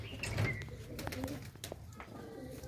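Domestic pigeons kept as a hobby coo from rooftop perches and cages, soft repeated low calls close by, with faint bird chirps over a busy background and some voices talking.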